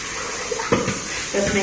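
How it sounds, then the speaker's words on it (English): A blender jar being rinsed under running water in a home kitchen, with a continuous water rush broken by a few louder sloshing splashes as the jar is swirled and tipped. "Just make sure you give it a good rinse so you don't have any soap at the bottom."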